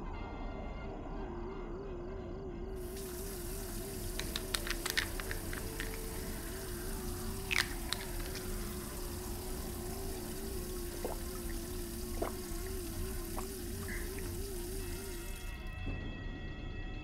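Water runs steadily from a tap in the horror game Fears to Fathom: Norwood Hitchhike, a continuous broadband rush with a few faint clinks over a low droning ambience, with no one talking.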